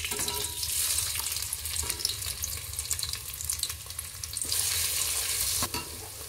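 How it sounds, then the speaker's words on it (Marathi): Roasted onion with masala fries in oil in a pan, giving a steady close sizzle with stirring scrapes and occasional louder clatters, and no voices. "आता हे कांदा टाकून घ्यायचा भाजलेला थोडा."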